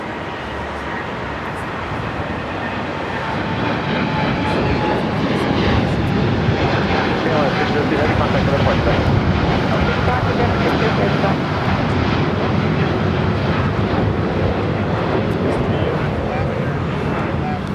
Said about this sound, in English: for the KLM and Dreamliner to start rolling down 25 right